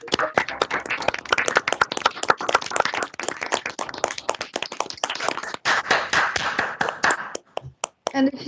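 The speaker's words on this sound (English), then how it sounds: "Please give another full round of applause for Caroline." An audience applauds a speaker named Caroline after a fashion talk, dense, sustained clapping from a room full of people that thins toward the end.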